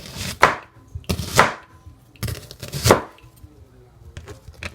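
A knife chops through an onion on a cutting board, four or five distinct, sharp cuts landing at irregular intervals, close and fairly loud with no talking.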